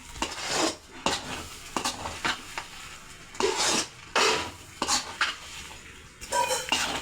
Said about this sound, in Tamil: நல்லா கிளறி விட்டுக்கோங்க